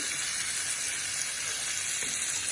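Onions and chillies sizzle steadily in a hot pan, a continuous close frying hiss with no pauses and no voices.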